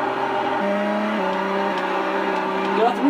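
A car driving in Grand Theft Auto: San Andreas on OUYA, its engine holding a steady drone that steps up through gear changes, loud and continuous with no talk.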